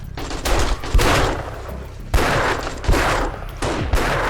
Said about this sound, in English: All right, time to fire a gun.